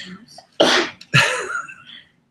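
Two sharp, loud sneezes in quick succession, close to the listener, with a brief breathy intake before the first.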